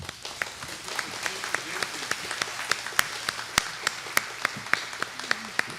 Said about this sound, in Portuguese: Eu acho que elas merecem uma salva de palmas,